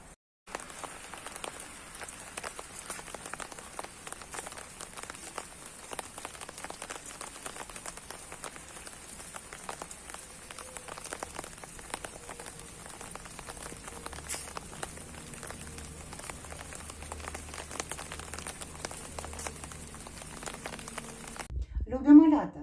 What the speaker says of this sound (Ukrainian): Дощик напоює землю водичкою яка потрібна всім всім рослинам.